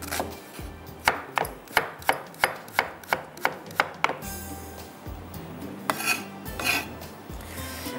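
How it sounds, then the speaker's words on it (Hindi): Onion being finely chopped with a knife on a board, a steady run of crisp, evenly spaced knife taps, close and clear, followed by softer scraping and handling with no talking. "अच्छा जी, प्याज को कटिंग करते हैं,"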